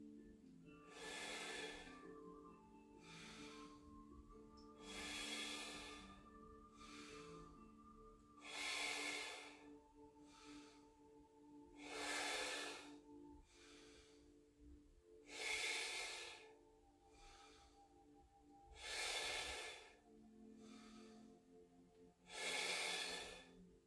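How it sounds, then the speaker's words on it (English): Slow, deliberate breaths in a breathing exercise, air drawn in through pursed lips and let out through the nose, repeated about eight times in an even rhythm, close and soft over a faint low tone. "Pursing your lips as you're inhaling through the mouth and as you're exhaling through the nose."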